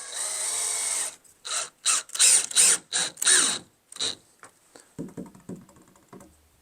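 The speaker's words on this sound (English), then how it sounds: "I think I'm going to just get another screw in right here" A power drill driving a screw into the wood of an HO scale model railroad layout, a series of short loud whirring bursts and stops, followed by quieter ratcheting clicks and handling sounds.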